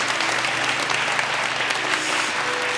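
A church congregation claps warmly and steadily for certificate recipients, dense applause filling the room without a break.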